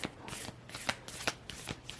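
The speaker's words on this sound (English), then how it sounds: "I'm going to shuffle these cards. These are hard to shuffle." Tarot cards are riffled and shuffled by hand, a quick series of papery flutters and soft slaps in an irregular rhythm, close and fairly quiet, with no talk.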